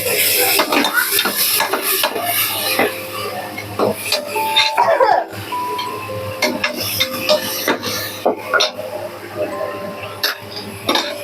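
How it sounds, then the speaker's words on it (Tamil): Ginger garlic paste fries in a pan for mushroom biryani while a spoon scrapes and clinks against the metal in irregular strokes, close and fairly loud over a steady stove hum. "இஞ்சி பூண்டு பேஸ்ட் போட்டுடலாம்."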